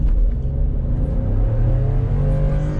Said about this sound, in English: the sound of that V8 is probably my favorite part about this truck so far.